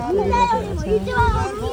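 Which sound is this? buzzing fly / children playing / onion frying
children playing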